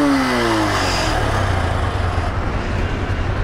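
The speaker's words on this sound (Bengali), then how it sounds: "দেখলেন তো আপনারা বাইকের ইঞ্জিন সাউন্ড এবং ধোয়া বেরিতেছে।" The engine of a worn second-hand motorcycle runs loud and close with a rough, rumbling idle after a brief rising whine at the start.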